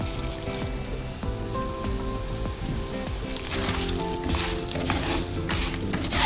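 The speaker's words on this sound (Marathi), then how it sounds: "गरम तेलाच्या कढईवर अशी एक गाळणी ठेवा आणि आपले ओले पोहे त्यात टाका." Wet poha frying in hot oil in a kadhai through a strainer set over the pan, giving a steady close sizzle with light crackling and stirring that grows slightly busier toward the end.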